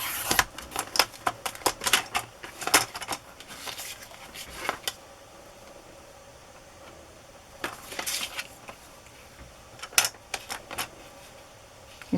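A paper-cutting machine trims journal elements for window and door designs, giving bursts of quick, clicky mechanical tapping that come in clusters with quiet gaps between them, fairly close and alone without talk.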